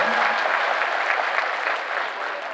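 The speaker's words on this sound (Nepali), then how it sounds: "एकपल्ट ताली मजाले बजाएर बिदाई हुन्।" Audience applause at a political party gathering in Nepal, sending off the general secretary; steady dense clapping from a large crowd, sustained and even throughout.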